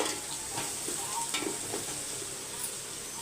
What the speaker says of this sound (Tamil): ஒரே ஒரு பெரிய வெங்காயம் நல்லா வந்து வதங்கட்டும்